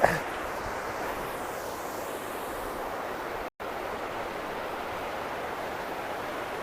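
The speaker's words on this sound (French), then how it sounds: "on a une petite cascade" A small waterfall rushes as a steady, broad wash of falling water, heard close and loud. The roar is constant, with a brief dropout midway.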